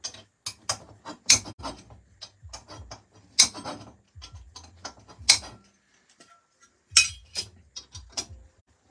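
Parts being tightened during assembly of a 2023 Genius GTC8E RC car, heard as a series of close, sharp clicks and ratcheting ticks in irregular bursts with quiet gaps between.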